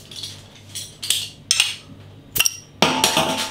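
A beer bottle being handled and its cap opened, a series of close metallic clinks and taps ending in a sharp pop and hiss, with no talking.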